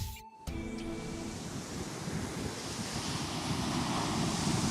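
Ocean waves wash onto a beach in a steady, hissing surf mixed with wind buffeting the microphone, beginning after a brief cut and swelling slightly toward the end.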